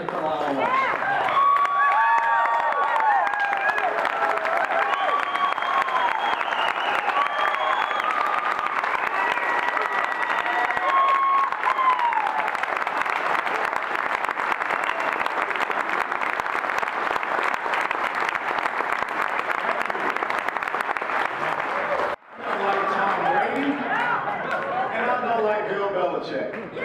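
An audience applauds Allen West with loud, sustained clapping that fills the room for nearly half a minute, broken by one brief dip near the end before resuming.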